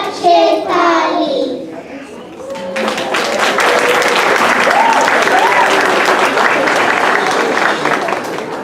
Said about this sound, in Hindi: बजा रहे हैं बच्चे ताली